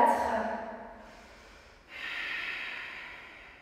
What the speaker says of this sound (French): On reste là pour 5 respirations.